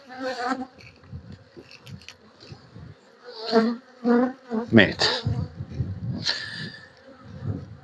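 Honeybees buzz around an open frame in a beehive housing a young swarm colony, a steady hum running beneath a man's intermittent speech.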